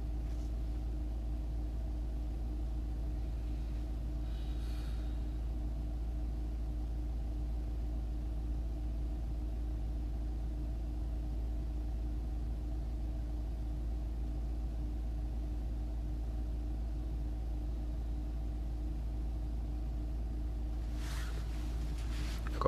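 A car engine idles with its ignition on. It makes a steady low hum and rumble that runs unchanged throughout, with a faint clatter near the end.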